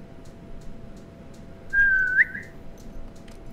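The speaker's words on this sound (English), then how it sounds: "Dog whistle." A short rising-then-falling dog whistle tone sounds in the video game Tom Clancy's Wildlands, sharp and close over a low steady background hum, with faint rhythmic ticks around it.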